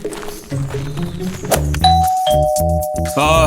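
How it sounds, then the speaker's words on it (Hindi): A doorbell chimes a two-tone ding-dong over background music, with a few more bell tones following. "चलो घंटी बजाओ।"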